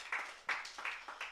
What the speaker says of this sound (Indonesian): Boleh kasih tepuk tangan buat Allah kita.